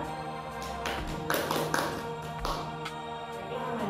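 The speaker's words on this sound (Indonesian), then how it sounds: "Berikan tepuk tangan untuk Amanda" A classroom of students gives a few scattered, light claps for a classmate, sparse taps rather than sustained applause, heard close and fairly quiet over a faint hum.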